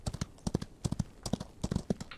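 Horse hooves clip-clop in the video game Outlaws of the Old West, a quick irregular run of close, crisp hoofbeats for a couple of seconds.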